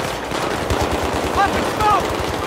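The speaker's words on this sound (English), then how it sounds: "The fighting is intense as bullets snap through the air, explosions topple walls, and waves of enemies seek to defeat you." Rapid gunfire in Battlefield 3, a dense burst of repeated shots with bullet snaps and short whizzing sounds, loud and close, with a voice speaking over it.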